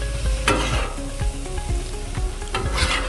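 Cheesesteak meat and seasoning sizzling loudly on a hot griddle while a spatula scrapes and turns it, with repeated sharp scraping strokes over a constant close frying hiss.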